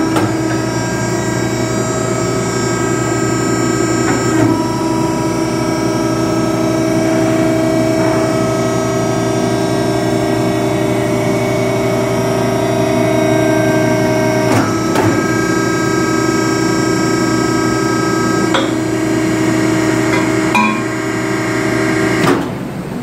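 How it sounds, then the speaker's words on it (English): A VPE Max tube bender works 2.5 inch 304 stainless steel tubing. Its loud, steady mechanical hum holds throughout, with a few sharp knocks and clicks scattered through the run. "So we'll bend it on the VPE Max and look at the bend"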